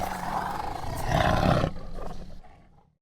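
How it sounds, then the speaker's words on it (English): A tiger lets out a loud, rough roar that swells to a peak and then trails away into silence, heard alone at close range. "tiger."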